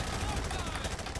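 A weapon fires in the Call of Duty Modern Warfare 2 Remastered campaign, heard as a brief, dense rattle of rapid shots at close range.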